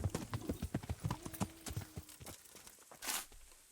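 A horse's hooves clip-clop in the medieval video game Kingdom Come: Deliverance, a close rhythmic run of steps that slows and stops, followed by a brief soft rustle.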